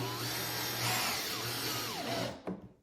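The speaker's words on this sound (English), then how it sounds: "seat the screw head just below the surface of the wood. But be careful you don't drive these too far" A power drill whirs as it drives screws into cedar wood while a cedar Adirondack chair kit is assembled, a close, loud motor whine that rises and dips under load for about two and a half seconds before it stops abruptly.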